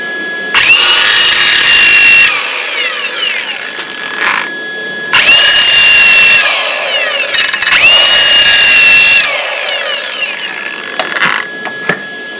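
A power tool grinds during valve work on a Briggs & Stratton 37hp Vanguard EFI engine in a Wright ZK52 mower, running in three loud, close, steady bursts separated by short pauses and small clicks.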